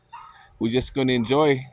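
Two dogs bark at a campsite while someone talks over them; the barks are mixed into the speech, a few short yips and bow-wows under and between his words.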